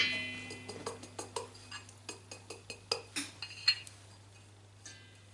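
Butter and icing sugar for cupcakes are mixed in a bowl, giving a string of light metallic clinks and ticks at an uneven steady pace, close but faint, with a low steady hum underneath.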